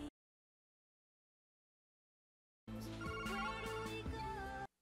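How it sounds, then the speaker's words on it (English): A phone ringing in a TV show scene is heard as a short burst of electronic ringtone notes near the end, loud and close, after a stretch of silence. "It's always a phone call that interrupts all the good moments, right?"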